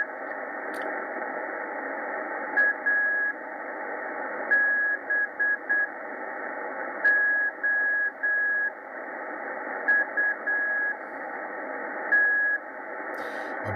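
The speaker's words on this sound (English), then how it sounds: "So obviously that's someone's doing some slow morse or something" Slow Morse code on an amateur radio receiver tuned near 3614 kHz: a steady tone keys on and off in unhurried dashes and dots over constant band hiss, with no talking.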